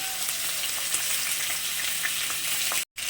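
Cumin seeds sizzle in hot oil for tempering, turning red, alongside frying tilapia fish. A steady, close crackling sizzle runs throughout, cut off by a brief dropout near the end.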